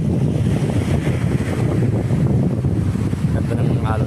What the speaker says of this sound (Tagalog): Ganda ng alon guys. Oh. Ganda ng simoy ng hangin